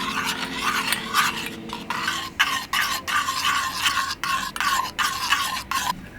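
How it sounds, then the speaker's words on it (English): Aloe vera gel being stirred into powdered blush in a small dish, giving repeated scraping, clinking strokes in a steady rhythm, close and fairly loud, with no talking. "we're going to add our aloe vera gel and the powder to this as well. And we're going to mix it all up together"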